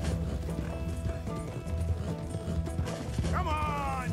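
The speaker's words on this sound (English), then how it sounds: "meu cavalo é meio lento, hein?" Horse hooves clip-clop in a steady rhythm in the video game Red Dead Redemption 2, with mechanical game sounds and a brief whinny-like tone near the end.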